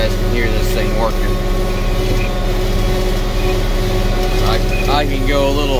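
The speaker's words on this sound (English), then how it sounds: "It's going to give this tractor a pretty good workout." A Case IH 8930 tractor engine drones loud and steady while pulling a drill uphill through a field, with someone talking over the constant rumble.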